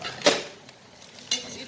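A spoon stirs dal with garam masala and coriander powder in a metal pan, giving two quick scraping clinks against a faint background sizzle.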